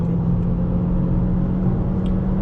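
Opel Insignia 1.6 turbo with the A16LT engine, revving high and holding a steady droning rumble from inside the cabin on the motorway, with no voices over it.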